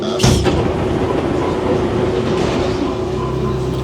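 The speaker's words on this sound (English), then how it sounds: "I didn't leave the metro, I actually caught another train instead, different line." A Paris metro train runs with a steady, loud rumble and rail roar that lasts throughout. A faint high squeal sounds near the start, and there is no clear talk.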